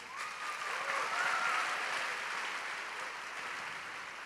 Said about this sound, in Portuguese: Palmas para eles aqui, ó.